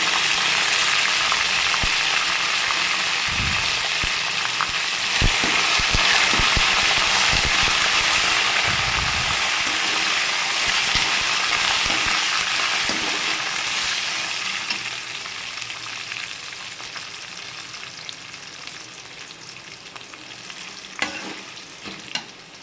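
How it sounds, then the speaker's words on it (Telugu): Ivy gourd pieces frying with curry leaves in a pan, a strong continuous sizzle with repeated spatula scrapes and knocks, the hiss easing to a lower level in the later part. "దొండకాయలు అనేవి బాగా వేగాయండి, చూడండి ఒకసారి"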